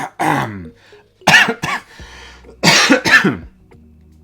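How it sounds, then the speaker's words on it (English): Several short, rough throat-clearing bursts come in two clusters with a quiet pause between them, close and fairly loud. "had to clear my throat there"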